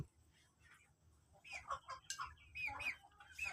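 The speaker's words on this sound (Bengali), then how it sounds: "এখানে আমার মুরগি এগুলো দেখো কেমন" Several chickens in a net-fenced enclosure cluck and squawk in short, scattered bursts, fairly quiet against a low background hum.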